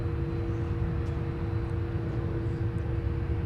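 A jet airliner takes off from runway 17 at Minneapolis–St. Paul airport, a steady, distant engine roar and rumble holding level throughout with no voices.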